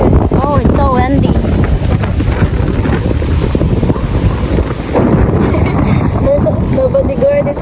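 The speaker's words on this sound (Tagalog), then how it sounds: "Oh, it's so windy." Strong wind roars across the microphone at a seaside fisherman's wharf, a loud, constant buffeting rumble with faint surf beneath and a voice speaking over it.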